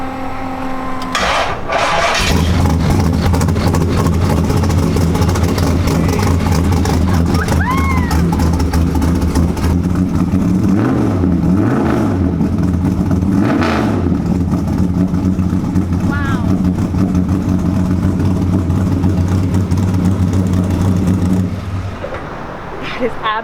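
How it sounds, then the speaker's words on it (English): A wheelie car's engine fires up and keeps running at a loud, close idle with rhythmic throbbing and several rising revs, and people talk and exclaim over it. "Turn the power on, and it should fire right up."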